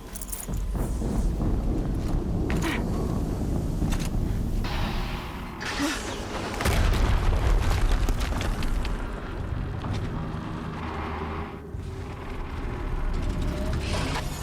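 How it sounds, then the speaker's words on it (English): Deep, rumbling explosions in Horizon Zero Dawn played on PS5, heavy low booms layered with clanking, debris and mechanical noise that keep the scene loud and dense from start to finish, with no talk. "Another explosion."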